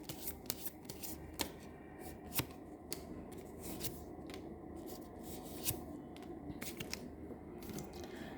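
Tarot cards are shuffled and drawn by hand, a string of soft papery slaps and riffles at irregular intervals, close and quiet, with no talking.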